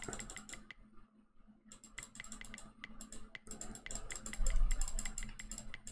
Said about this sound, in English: Sorry for the clicking if you're hearing that.